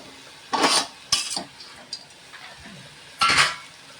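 A spoon stirs bitter gourd and coconut pieces in a pan in a few short scraping, clinking bursts, separated by near quiet.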